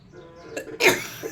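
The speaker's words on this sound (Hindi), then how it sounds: "खांसी है भाई" A man gives a short, sharp cough, preceded by a smaller throat catch, close and fairly loud against a quiet room.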